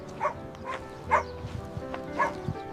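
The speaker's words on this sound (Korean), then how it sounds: "지금 개가 지금 짖었잖아" An AI-generated sound effect of a dog barking: three or four short, mid-loud woofs spaced about a second apart, with a low background murmur.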